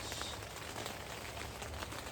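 Steady rain pattering throughout an outdoor Pilates session at a women's festival, an even, close hiss of drops with no voices in the clip.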